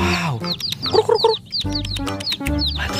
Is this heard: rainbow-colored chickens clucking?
yes